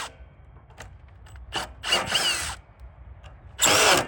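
A Phillips screwdriver backs screws out of a metal gate's tension rod, giving short scraping, grinding bursts with quiet pauses between, the last one loudest and close.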